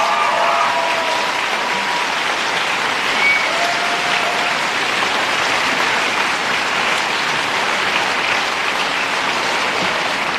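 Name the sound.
crowd applause at volunteer rally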